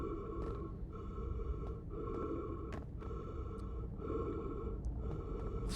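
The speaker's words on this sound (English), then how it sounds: "Listen to me breathing." In the space game Outer Wilds, an astronaut character breathes heavily in repeated rhythmic gasps over a steady musical drone.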